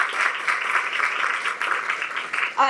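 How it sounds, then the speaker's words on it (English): Audience applause at a Daughters of Greatness presentation, steady dense clapping from a crowd in a hall lasting nearly three seconds, fairly close and moderately loud, with a voice briefly breaking in at the end. "give them a round of applause"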